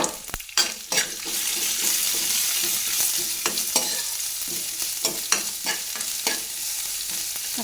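Chopped ginger and green chili fry in oil in a pan, crackling and sizzling steadily while a utensil scrapes and stirs in sharp, irregular clacks.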